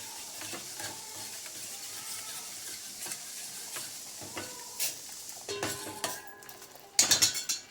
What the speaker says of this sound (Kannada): ಅರಿಶಿನ, ಬೆಲ್ಲ ಎಲ್ಲ ಚೆನ್ನಾಗಿ ಕುದೀತಾ ಇದೆ